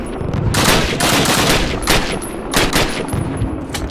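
Dense, continuous gunfire from Call of Duty 1 on Hardened difficulty, with overlapping rifle and machine-gun bursts forming a loud, sustained battle din and no talk.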